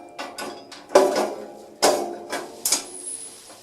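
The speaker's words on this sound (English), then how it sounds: "So as usual, just put your bolt through," A bolt slides through a metal bracket while a Brinly 48-inch dethatcher is assembled, giving several sharp, close metallic clinks and taps spaced irregularly, with no talking.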